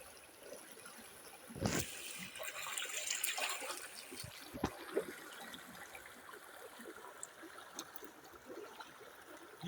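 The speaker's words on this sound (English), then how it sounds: "Here now I'm pouring water to my body." Cold river water poured over a bather's body at a riverside, heard as a steady trickling and splashing stream over outdoor water ambience, with a couple of louder splashes standing out.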